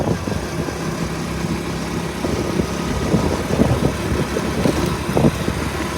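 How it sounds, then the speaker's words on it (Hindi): Motorcycle riding through strong wind on a village road, a steady engine rumble mixed with heavy buffeting wind noise throughout. "बाइक ऐसे हल्की होकर चल रही है क्योंकि पीछे से धक्का लगा हुआ है ना हवा का"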